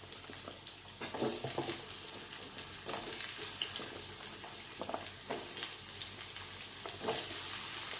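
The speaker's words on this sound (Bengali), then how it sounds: "তো আলুটা আগে ভেজে নিচ্ছি" Potatoes fry in hot oil left over from frying brinjal, a constant close crackling sizzle with scattered stirring clatters and light bursts of spitting oil.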